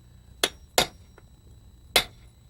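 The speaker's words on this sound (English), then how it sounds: "using a cold chisel, and just nick it all the way around" Three sharp metallic strikes of a cold chisel chipping white stone facing resting on a wood block, two close together then one after a pause, with a faint tap between, ringing and near in a quiet setting.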